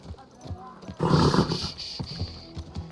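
A horse in the medieval video game Kingdom Come Deliverance II snorts and whinnies with hoof clops, set against a voice talking nearby.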